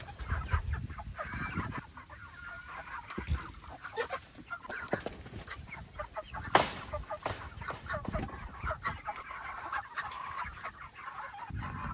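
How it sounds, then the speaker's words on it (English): Eight-week-old Cornish cross chickens in a field tractor on a small farm, clucking and murmuring steadily at close range with scattered louder squawks and no talk. "Okay, these are the 8-week-old Cornish."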